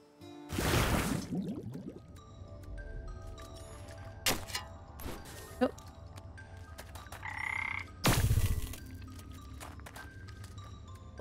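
Frogs croak in a farming video game, a loud burst near the start and another around eight seconds, with smaller chirps, drips and watery blips scattered over a steady low game hum; no one talks.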